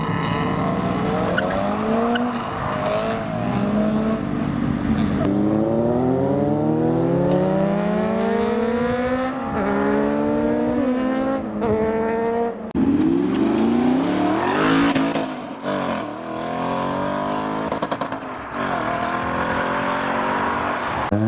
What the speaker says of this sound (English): GT86s are leaving, including the red one.